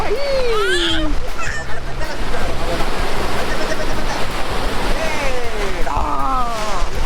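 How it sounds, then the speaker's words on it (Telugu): Sea waves crash on Gokarna beach with a loud, continuous surf roar close by and wind buffeting the microphone, while people shout and call out over the water. "మొత్తం నీళ్ళు కొట్టేస్తున్నాయి మొత్తం కంప్లీట్"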